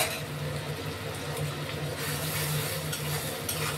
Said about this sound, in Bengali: এবার এই পেঁয়াজটা, কাটা পেঁয়াজটা একটু ভেজে নেবো